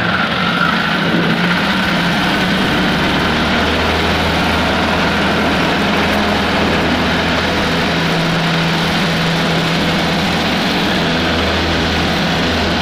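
A Zenith CH 750 Cruzer light aircraft with an O-235 engine takes off near Cloverdale, California, its engine and propeller roaring loud, steady and continuous from inside the cabin, with no speech.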